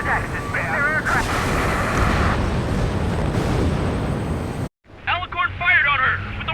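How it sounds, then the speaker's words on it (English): Ship main guns firing in the Ace Combat 7 video game, heavy booming blasts and a sustained roar under radio-style voices, ending in a brief cut to silence before the talk resumes. "Main guns commence fire."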